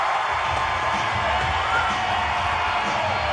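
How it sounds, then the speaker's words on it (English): A wrestling arena crowd heard through a played recording, a steady wash of cheering and shouting that fills the whole stretch at even loudness, with no single voice standing out. "Listen to that crowd."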